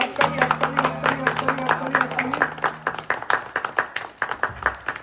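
Hands clap in a steady rhythmic beat as a song ends, sharp repeated claps for about five seconds, with a sustained tonal voice underneath during the first few seconds.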